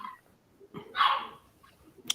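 A loud dog gives a single sharp bark near the middle, with a few softer yips and whimpers around it, close by and otherwise quiet.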